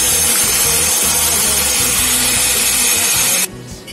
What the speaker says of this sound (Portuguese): Agora eu vou bater um pouco na batedeira.